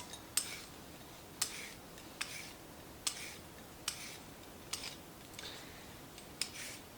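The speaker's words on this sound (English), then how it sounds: "So I'm just going to peel my carrots." Carrots are peeled with quick, faint scraping strokes, eight or so evenly spaced, close and quiet with no talk.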